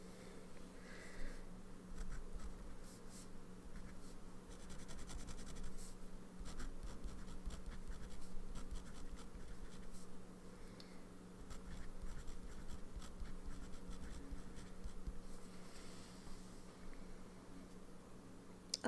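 Pen scratching ink notes onto paper close by, a continuous soft scratchy scribble with faint tapping, steady throughout with no talking.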